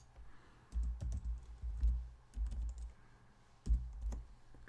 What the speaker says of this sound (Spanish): desde la propia caja de búsqueda de Google podemos escribir directamente Prezi